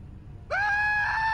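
A character in the Tales From The Borderlands video game lets out a loud, sustained scream that bursts in suddenly after a quiet moment and holds to the end.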